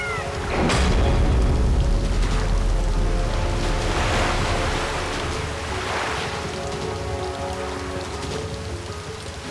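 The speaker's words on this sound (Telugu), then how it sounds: "ఎంత వేగంగా గంగా ప్రవాహం భూమికి చేరుకుంటుందో" Flood water of the river Ganga rushes loudly in a dense, continuous roar of churning water that stays strong and close from start to finish, with no voices.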